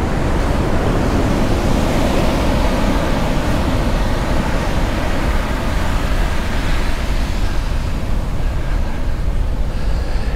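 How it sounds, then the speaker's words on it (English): Small ocean waves break steadily against nearby rocks on Molokai's west side in Hawaii, a continuous loud surf wash with wind, no voices. "We have pretty small waves coming in here, creating the right atmosphere."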